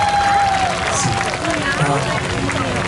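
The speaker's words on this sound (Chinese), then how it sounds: "也给我们全部所有国际热气球的这一些工作人员掌声一下好不好？" Crowd at an outdoor hot air balloon festival concert applauding the staff, a steady dense wash of clapping and cheering from a large audience, continuous and fairly loud throughout.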